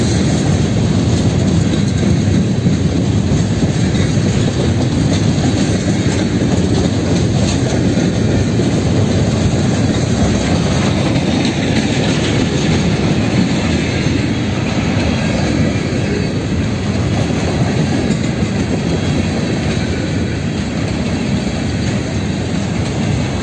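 A KCSM freight train hauled by ES44AC locomotives rolls steadily past close by, a continuous loud rumble with rhythmic clickety-clack of wheels over rail joints and no talk.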